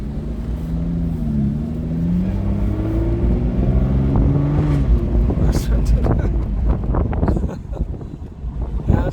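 A Toro Red Aston Martin with a normally aspirated 6-liter V12 making 450 horsepower pulls away, its engine note rising steadily under constant wind buffeting on the microphone.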